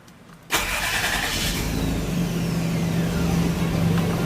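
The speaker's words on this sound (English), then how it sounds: "Okay, starter's in. Let's see how it starts." A car engine cranks and catches after a starter motor replacement, roaring to a steady, loud idle that runs unbroken for several seconds, close by, with no talking.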